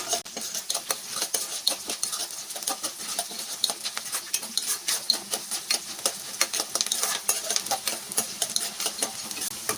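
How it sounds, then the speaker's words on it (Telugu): Dals tempering in hot oil in a pan give off a light, continuous sizzle, punctuated by quick clicking taps of a spoon stirring, moderately close and quiet. "ఇవి బాగా దోరగా వేగేటట్టు వేపుకోవాలి ఆయిల్లో."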